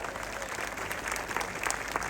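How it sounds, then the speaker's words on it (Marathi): A crowd applauds at an outdoor wrestling match in Loni Kalbhor, dense steady clapping from many hands filling the short moment without any voice. "आणि पुन्हा एकदा सगळ्यांनी टाळ्या करा, दोघांचं सगळ्यांनी टाळ्या करा."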